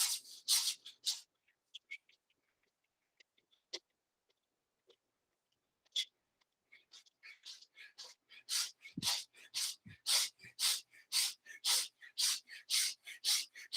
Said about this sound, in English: It's a quick and short breath.